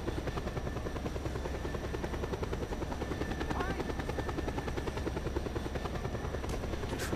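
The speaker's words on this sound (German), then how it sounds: "Mit diesem Heli hier." A helicopter in the video game Just Cause 2 drones steadily and loudly throughout, its rotor chop a continuous even pulse with no voices over it.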